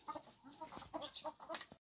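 Chickens cluck in short, repeated bursts as they are let out of their coop, several birds close by, with a quick busy rhythm and a few sharper squawks mixed in.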